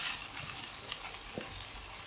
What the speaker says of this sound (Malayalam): ഇനി ഇത് നമുക്ക് കറിയിലേക്ക് ഒഴിച്ചു കൊടുക്കാം.